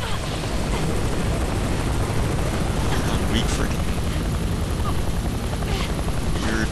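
A helicopter in the video game Ninja Gaiden 2 gives a loud, steady whirring drone that runs the whole time beneath a voice.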